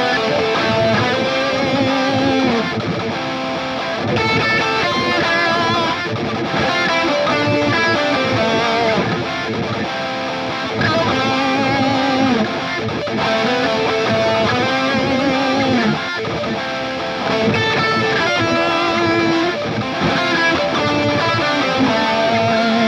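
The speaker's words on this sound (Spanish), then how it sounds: "sino voy a hacer solo la melodía con la guitarra." Distorted electric guitar plays the vocal melody of a song reworked in a minor key, sustained and loud over a full backing track with no singing or talk.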